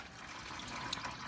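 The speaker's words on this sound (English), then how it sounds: "we've got the coolant slowly draining out" Engine coolant drains from a 2004 Toyota RAV4 into a catch pan under the vehicle, a faint, steady liquid trickle with a soft splash partway through and no talk.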